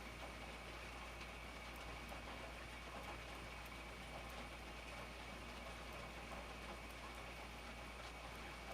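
Rain falls steadily outdoors as a soft, even patter and wash, faint and continuous, with a low hum underneath and no voices.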